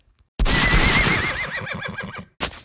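A horse neighs in the Roblox Brookhaven video game, one loud, wavering whinny lasting about two seconds and heard alone, followed by a short burst of sound.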